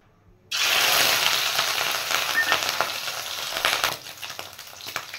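Crab roe and fat sizzling loudly in hot oil in a pan, a sudden burst of dense frying hiss that settles into steady crackling with small pops, close and alone without talk.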